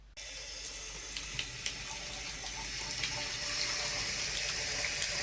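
Water runs steadily from a bathtub diverter spout into the tub, a constant hissing splash that starts abruptly and continues close and alone.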